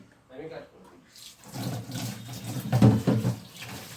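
Tap water runs into a kitchen sink as chicken meat is rinsed under it, a steady splashing wash that swells louder toward the middle, with faint speech briefly at the start.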